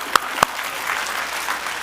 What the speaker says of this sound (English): Let's have a round of applause for the moms